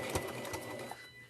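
A sewing machine stitches fabric for a quilted soup bowl hot pad, a quiet rapid mechanical whir with faint needle ticks, running alone and close.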